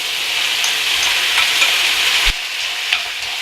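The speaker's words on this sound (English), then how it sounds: "Fry your onion and carrots for 1-2 minutes, and you can put your squid." Onion, carrots and squid sizzle loudly in a hot pan while being stir fried, a steady close hiss broken by a sharp utensil knock and a few light scrapes.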